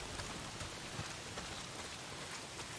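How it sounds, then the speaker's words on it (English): Heavy rain in the game Days Gone, a dense, steady hiss of downpour drumming on surfaces, with faint scattered drops standing out, continuous and alone with no voices. "Well, not if it's pissing down rain."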